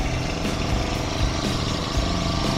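Gasoline grass cutter with a 300-size nylon line head, over two years old, runs steadily nearby with a continuous droning engine tone and no pauses.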